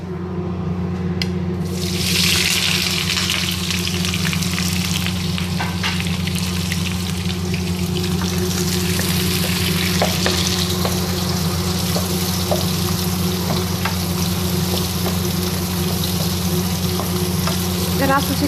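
Onions fry loudly in a pan, a dense, continuous close sizzle with a steady hiss and occasional crackles, preceded by a brief sharp burst as the onions hit the oil.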